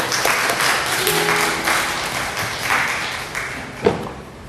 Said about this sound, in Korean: 하나님께 감사의 박수를 드립니다